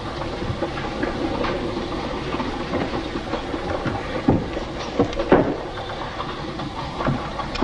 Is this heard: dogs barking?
no